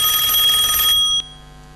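A loud telephone bell rings close by in a continuous trill, then cuts off abruptly, leaving only faint room sound during a comedy sketch.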